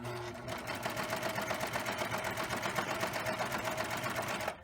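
A serger sewing machine runs steadily while stitching fabric around a curve, giving a fast, even mechanical chatter that is close and continuous for several seconds before it stops abruptly.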